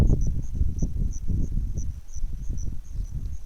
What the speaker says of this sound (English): crickets are really making noise today